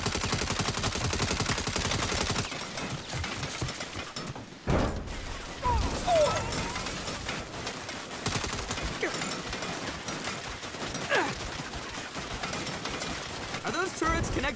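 Turrets fire in the video game Saints Row: dense, rapid bursts of automatic gunfire and explosions keep coming with only brief gaps, loud and close, as people talk over them.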